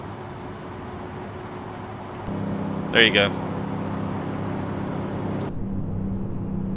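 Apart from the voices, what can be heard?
truck engine at low RPM, American Truck Simulator video game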